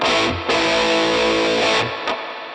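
A distorted electric guitar played through a HeadRush pedalboard rings out in sustained chords drenched in splashy spring reverb, with a brief gap and a short echoing tail near the end.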